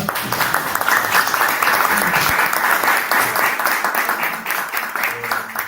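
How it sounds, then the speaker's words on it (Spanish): Audience applause for the panelists at the close of a panel discussion on Chile and the digital future, a dense, even roll of many hands clapping that carries on for nearly six seconds, with a few voices murmuring beneath it. "Quisiera pedir un aplauso para todos nuestros panelistas hoy día."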